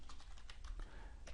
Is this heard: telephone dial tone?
no